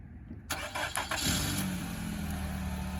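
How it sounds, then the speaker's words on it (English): A 2017 Nissan Rogue SV is started by remote key fob: a short cranking burst catches, then the engine settles into a steady, fairly close idle hum. "We'll start the motor and let it run. Here goes the key fob. It does have a remote start."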